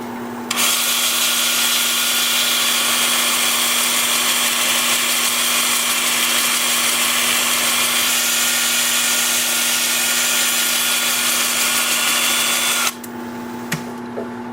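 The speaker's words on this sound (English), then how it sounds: "I've got the lathe spinning forward at about 370 RPM. I'm using a 2-inch 80 grit disc." Steady, loud whirring of a wood lathe spinning sycamore at about 370 RPM, with the abrasive hiss of a 2-inch 80-grit sanding disc over it, running continuously before stopping abruptly near the end.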